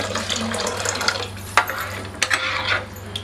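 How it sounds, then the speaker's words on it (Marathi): Water is poured into a pot of yogurt kadhi on the stove, giving a continuous splashing pour with a few clinks of a utensil against the pot. "थोडं पाणी ॲड करून घेते"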